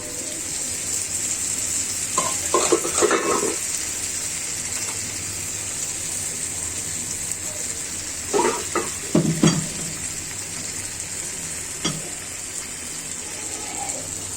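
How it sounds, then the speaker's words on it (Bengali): Boiled chickpeas tipped into a hot pan with cabbage and vegetables, sizzling steadily throughout, with bursts of scraping and stirring around the start, middle and near the end. "সিদ্ধ ছোলাগুলো ছেড়ে দিচ্ছি"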